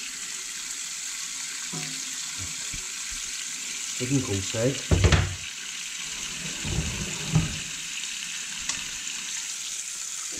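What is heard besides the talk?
cold tap water running onto sausages to cool them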